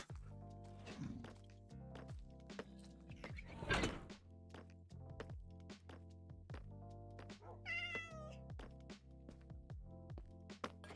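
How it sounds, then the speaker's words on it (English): Cats meow in Minecraft, with two drawn-out meows over steady background music and repeated dull thunks. "Right, can I actually tame the cat?"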